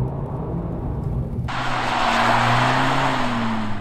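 Front-wheel-drive car skidding on spinning front tires while drifting, an engine drone joined after a moment by a loud, sustained broadband tire hiss and squeal that continues steadily to the end.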